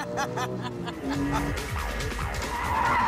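A Porsche 996.1 GT3 engine roars while tires screech through a long drifting slide, the squeal wavering over steady engine drone.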